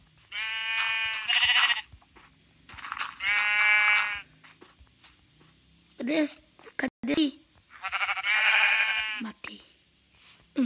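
A Minecraft sheep bleats repeatedly in the video game, three clear wavering bleats spaced a few seconds apart, loud and near, with a voice speaking in between.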